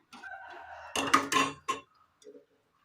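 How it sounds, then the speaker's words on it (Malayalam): Eggs are set one by one into a pot of salted water, giving a few close clinks and knocks in quick succession, then a faint final tap, with no voices. "ഇതിലേക്ക് ഓരോ മുട്ടകളായി വെച്ച് കൊടുക്കാം"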